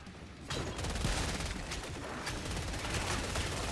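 Rapid automatic gunfire in the video game Killing Floor 3: a sustained burst of dense, crackling shots that starts suddenly and keeps a steady, loud rhythm for several seconds.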